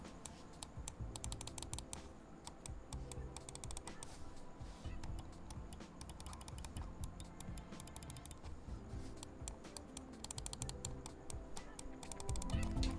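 Rapid, dense typing on a mechanical keyboard fitted with Huano blue shell pink dot switches, a steady stream of sharp, loud clicks heard close up with no voices.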